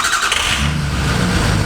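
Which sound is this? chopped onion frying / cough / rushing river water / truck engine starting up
truck engine starting up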